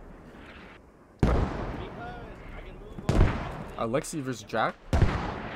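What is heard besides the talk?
gunfire in the video game Squad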